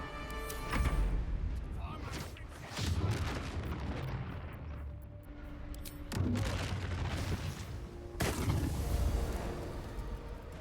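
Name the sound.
gunfire shooting in the video game Baldur's Gate 3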